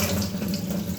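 Water runs steadily from a tap into a tank, a continuous close, full-bodied gushing stream with no pauses or voices.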